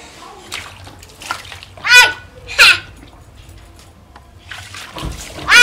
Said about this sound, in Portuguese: Você vai tirar a água todinha daí, Gui.